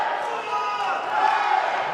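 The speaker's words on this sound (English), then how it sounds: "A lot of cheering for them." A crowd at a winter beach volleyball match roars and chants in support of the Vorai team, a loud, sustained swell of many voices lasting a couple of seconds.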